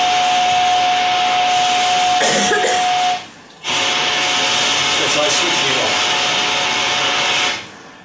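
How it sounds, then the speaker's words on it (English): A pneumatic blower fan moves grain through a conveying line, giving a loud, steady roaring whoosh with a fixed tonal whine; it drops away briefly around the middle before resuming at full strength and then cutting off near the end. "this is an example of a grain trial with a blower transporting grain"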